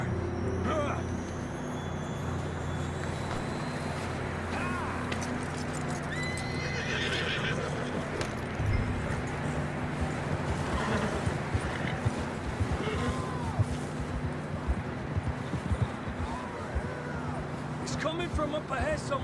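Horses neighing and whinnying with steady clip-clopping hooves in Red Dead Redemption, set against a dense, continuous backdrop of ambient noise and faint distant voices.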